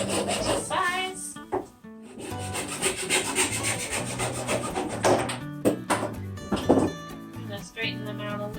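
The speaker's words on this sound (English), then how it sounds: "So I'm just cutting them to size." Small wooden pieces being cut to size for a garden row marker, with a steady rasping, scraping rhythm of hand cutting close by, broken by brief pauses and a few knocks, with talk at points.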